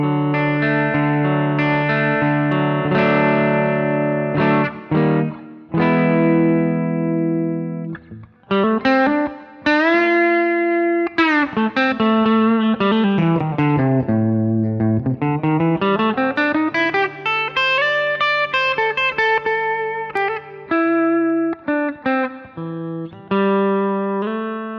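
Clean tone on the bridge pickup of a modded beginner electric guitar, with arpeggiated chords and melodic lines, some sliding notes and short pauses between phrases, bright and close, played alone without talking.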